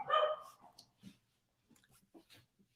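Dog barking indoors: one loud bark up front, followed by a few softer, scattered yips and snuffles fading off.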